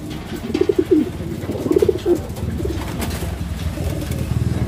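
Racing pigeons cooing nearby, two distinct rolling coos close together followed by softer cooing against a low background rumble.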